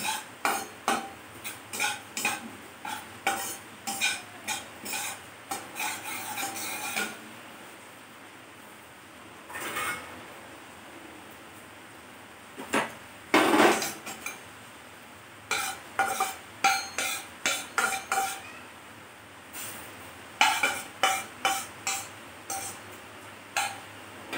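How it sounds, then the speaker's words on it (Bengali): Roasted sesame seeds being scraped from a pan into a bowl after the gas is switched off: bursts of dry scraping and spoon-on-metal stirring come in quick rhythmic runs, separated by short pauses, close and clear. "এবার আমি একটা পাত্রে তিলটাকে নামিয়ে রাখবো।"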